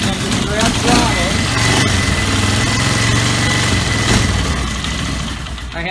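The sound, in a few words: Polaris engine starting and running with throttle held open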